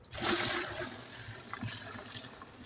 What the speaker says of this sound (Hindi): और इसमें हम लोग 20 लीटर पानी डालेंगे।